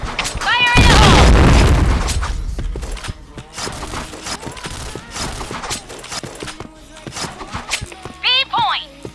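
A grenade goes off in a first-person shooter game with a loud booming blast that fades over a couple of seconds, followed by scattered gunshots and a shouted voice callout.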